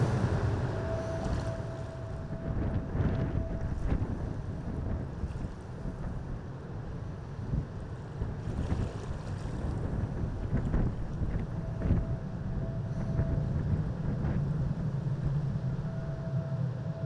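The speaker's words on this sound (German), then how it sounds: "Aber zum Glück hat der Wind ein bisschen nachgelassen." Steady wind buffets a boat out on the water during pike fishing, a continuous low rumble with gusting microphone noise and faint hull and water sounds, no voices.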